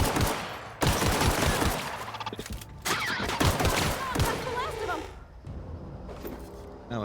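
Gunfire in the video game The Outer Worlds comes in rapid, loud bursts of shots with echoing cracks. It stops and starts over several seconds, with a voice speaking between volleys.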